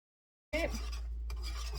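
Butter pieces are stirred by hand into warm lemon tart filling in a bowl, starting after a brief silence as a steady, close, soft scraping and swishing over a low constant hum.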